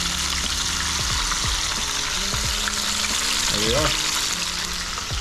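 Fish pieces coated in Frank's hot sauce sizzle steadily in a frying pan, a loud continuous crackle with occasional stirring, and someone briefly speaks over it.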